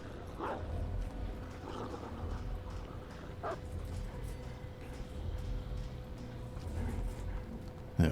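Houndmaster's dog in Dead by Daylight gives a few short barks and yips over a steady rumbling game background, with one clear bark near the start, another in the middle and a louder one right at the end.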